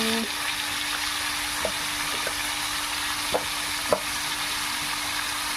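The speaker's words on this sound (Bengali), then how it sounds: "চিকেন ভেজে রান্না করবো" Chicken pieces frying in a pan give a steady broadband sizzle throughout, with a few soft utensil clicks over a faint low hum and no talking.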